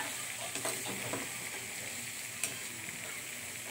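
Butter garlic shrimp sizzles steadily in a pan while being stirred, with a continuous frying hiss broken by a few soft scraping clinks and one sharper knock, close and fairly quiet, with no talking.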